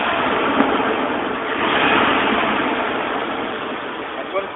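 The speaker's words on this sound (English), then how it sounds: "I don't hear any vacuum leaks and it's idling great." A car engine idles steadily with its exhaust note, a smooth continuous rumble that swells slightly midway, recorded close with faint background noise and no talking.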